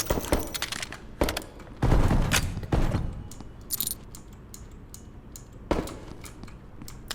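Automatic gunfire from a full magazine being emptied in the odd indie video game H O L E, rapid bursts loud at first, then thinning to scattered clicks and mechanical rattles, with no talk.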